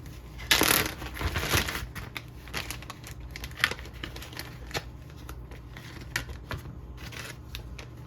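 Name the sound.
handling crinkly Ziploc plastic bag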